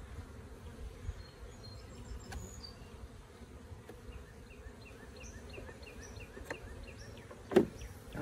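Honeybees from a 3 lb package buzzing during a hive inspection, a soft steady drone of many bees with occasional louder passes near the microphone and a brief knock of equipment.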